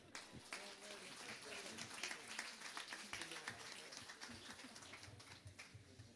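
Applause from a church congregation at a Pentecost service, a dense patter of many hands clapping at moderate distance, fairly quiet and steady with some voices mixed in.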